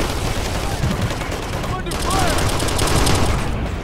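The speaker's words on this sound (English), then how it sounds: "I'm getting shot at here" Gunfire in the Operation Flashpoint: Red River video game, loud and sustained with rapid automatic bursts and crackling shots, a dense battle din that swells louder in the second half.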